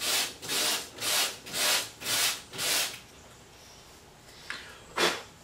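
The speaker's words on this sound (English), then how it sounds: "You're going to want to sand the little nub thing off of the L-shaped piece." Plastic prop piece sanded by hand with five regular back-and-forth rasping strokes, close and loud, then a pause and a few lighter scrapes.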